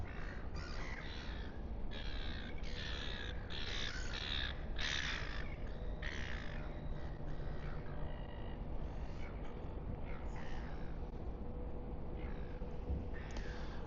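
Seagulls calling over Sydney Harbour at sunrise from a cruise ship, repeated harsh raspy cries in uneven bursts, moderately near, over a low steady background rumble.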